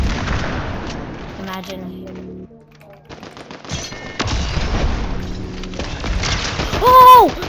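Rapid gunfire from a hunting rifle in a Fortnite-style video game, a burst of loud cracks and booms with a rising electronic tone near the end, under a voice talking.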